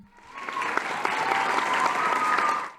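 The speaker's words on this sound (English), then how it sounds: "That's a clap." A short, dense burst of applause rises quickly, holds steady for about two seconds and then fades, with a faint tone sustained underneath.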